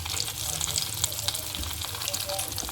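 Triangle-cut bread slices fry in hot oil for shahi tukray, giving a steady, dense crackling sizzle close up, with small pops scattered throughout and no speech.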